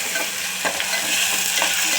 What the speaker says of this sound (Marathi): आता ह्याच्यामध्ये मी टोमॅटो घालते.